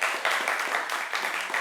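A studio audience at a televised Christmas family game show applauds to vote for a family, and the clapping is dense, steady and sustained throughout.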